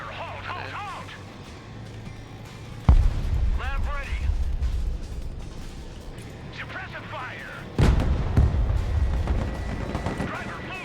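Two heavy tank cannon blasts strike units in the real-time strategy game Broken Arrow, loud and booming, spaced several seconds apart under a man's speech and radio-style voice chatter.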